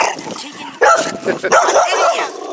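A dog barks and yips in short excited bursts, close and loud, mixed with a person's voice talking over it.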